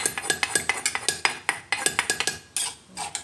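A ladle scooping eggplant soup into a bowl, producing a quick, steady series of close metallic clinks and scrapes against the pot and bowl, with a brief pause near the end.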